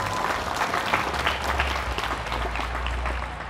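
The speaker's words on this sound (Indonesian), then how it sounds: "Tepuk tangan untuk Al-Barik." An audience claps throughout at an anniversary celebration for an Islamic education foundation, a dense, even wash of applause from a crowd, loud and steady for the whole stretch.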